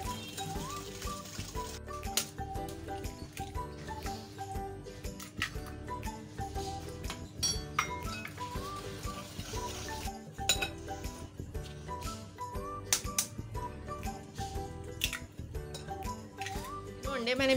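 Eggs whisked in a bowl for a tutti frutti tea cake batter, giving a steady run of quick clinking and tapping against the bowl, fairly close and continuous throughout.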